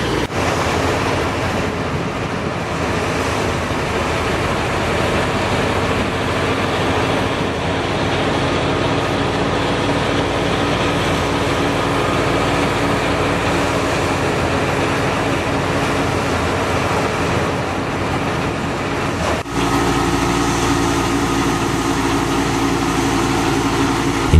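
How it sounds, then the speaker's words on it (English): Wheat thresher powered by an Al Ghazi tractor's diesel engine, working in a field, a continuous loud mechanical roar and rumble with steady churning, shifting slightly in tone near the end. "Its strong diesel engine delivers consistent torque, allowing it to perform even in rough field conditions."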